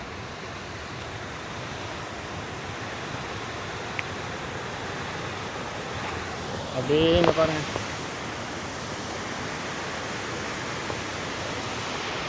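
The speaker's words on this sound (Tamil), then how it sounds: "அந்த தண்ணி சத்தம் பாருங்கள் எப்படி அடிக்குது" Water rushing through a dam pours in a constant broad roar; a person speaks briefly over it partway through.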